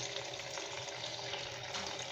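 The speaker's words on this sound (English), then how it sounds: "I'm adding water to my yam" Water pours steadily into a pot of diced yam in a home kitchen, a continuous rushing splash at an even level throughout, with no talking.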